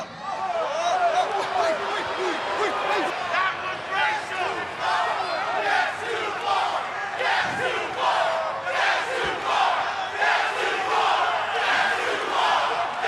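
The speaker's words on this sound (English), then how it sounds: "Yes, a "that's too far" chant." A WWE wrestling arena crowd chants in unison, loud and sustained, a dense roar of many voices that rises and falls in rhythm for the whole stretch.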